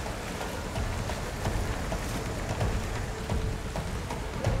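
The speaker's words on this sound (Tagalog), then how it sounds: "Pabugso-bugso ang buhos ng ulan." Heavy rain pours steadily near a river, a dense even roar of drops hitting surfaces with no voices heard.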